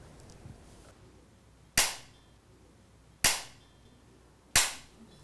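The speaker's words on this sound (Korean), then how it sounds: "이어서 죽비 소리에 맞춰 입정이 있겠습니다." A bamboo jukbi clapper is struck three times to open Buddhist meditation, each a sharp, crisp crack spaced about one and a half seconds apart with a short ringing decay, set against a quiet room.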